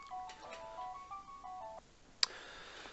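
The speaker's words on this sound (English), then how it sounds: "Phone call in the middle of lesson" A phone ringtone goes off in the middle of a math lesson on two-step equations, playing a short repeating melodic tone pattern for under two seconds, followed by a faint click.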